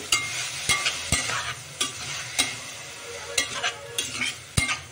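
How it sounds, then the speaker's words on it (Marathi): Spring onion greens tossed in hot oil with spices, a soft sizzle broken by sharp spatula scrapes and knocks against the pan at irregular intervals, close and alone. "आता कांद्याची पात परतून घेते"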